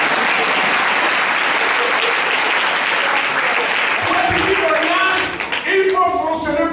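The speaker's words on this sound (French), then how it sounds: "Acclamez si vous voulez acclamer." A church congregation applauds during a French-language sermon with loud, dense, sustained clapping that fills the room, then begins to thin as voices and cheers rise near the end.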